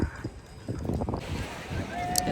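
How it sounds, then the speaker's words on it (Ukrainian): Outdoor wind buffeting and rumbling across the microphone on the beach at Forte dei Marmi, Italy, steady and fairly loud, with faint voices and background sounds mixed in. "Сьогодні вітряно"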